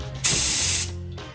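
A spray gun loaded with Raptor bed liner fires one steady, loud hissing burst of about half a second at roughly 40 PSI, with compressor hum underneath before and after.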